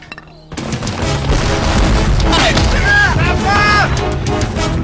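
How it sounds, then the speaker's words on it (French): French 12-pounder cannons firing at Waterloo, a loud rolling barrage of booms with crashing impacts layered under battle noise and a shouting voice. "80 canons envoient des obus de 12 livres sur les lignes"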